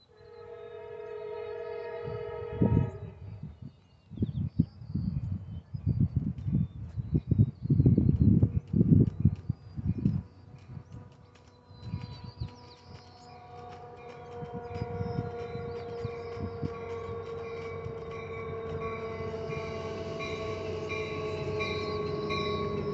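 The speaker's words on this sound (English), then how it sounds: "we got Amtrak 717 coming into Modesto Station" An Amtrak train led by an F59PHI locomotive pulls into Modesto Station, its harmonic horn blaring in long blasts before heavy wheel and engine rumble takes over and a steady horn-like tone returns as it arrives.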